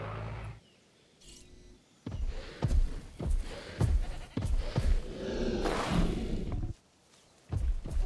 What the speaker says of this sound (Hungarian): Ott a kecske.